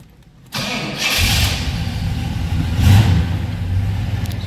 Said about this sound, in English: Let's go ahead and fire it up so you can hear it. Nice sounding car, got a nice little rumble to it.